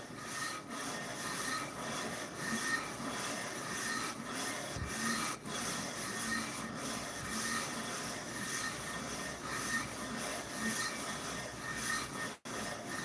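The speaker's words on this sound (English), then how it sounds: "we're milling down the high spots and making this all at the same level" A cylinder head from a Yamaha WR450 being resurfaced, milled flat to remove high spots and warpage, gives a steady close abrasive rubbing and rasping that runs without pause throughout, with no talk.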